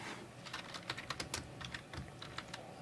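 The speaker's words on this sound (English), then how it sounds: "Are you clicking? Am I clicking? Who's clicking?" Clicking during a live stream, heard as quick, irregular clacks like keys tapped on a computer keyboard, soft and close with no voices.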